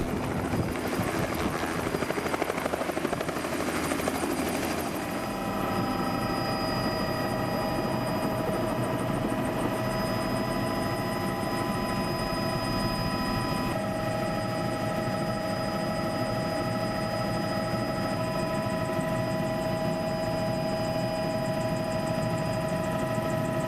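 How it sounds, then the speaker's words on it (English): Steady helicopter rotor and turbine drone in flight above Rio de Janeiro, continuous and close with a constant whine, no voices. "We cannot leave Rio without a flight by helicopter in order to admire this city from the air."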